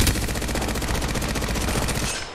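Continuous automatic gunfire sprayed in the shooter game Apex Legends, a dense, loud, rapid stream of shots lasting the whole stretch and cutting off near the end, with no talk over it.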